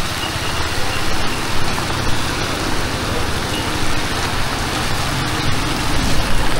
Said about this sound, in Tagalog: Lakas na ang ulan.